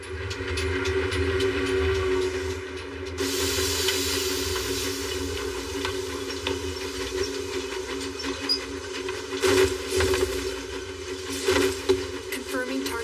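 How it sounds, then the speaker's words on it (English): An animated cargo train rolls along the tracks, a steady low rumble with a constant hiss on top and occasional rattles and clanks, running throughout without a break. "We know that this train is carrying cargo from the Lawless City"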